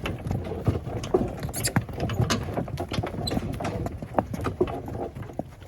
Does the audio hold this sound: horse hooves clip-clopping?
yes